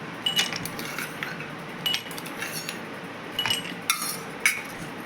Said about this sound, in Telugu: ఐస్ క్యూబ్స్ వేస్తున్నానండి నేను.